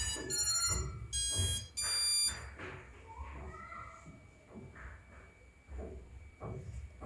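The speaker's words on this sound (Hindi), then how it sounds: "आप ये बीप साउंड ESC का सुन सकते हो" Drone electronic speed controller beeping during ESC calibration on a Pixhawk flight controller build: several bright, steady electronic tone bursts early on, with someone talking throughout and sporadic handling noise.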